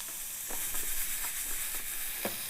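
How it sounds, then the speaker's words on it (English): Garlic and crushed red pepper sizzle steadily in a hot pan, a continuous bright frying hiss with small crackles and pops throughout, heard alone. "I wanted that initial sizzling, lower the temperature, and now let the garlic cook with the red crushed pepper"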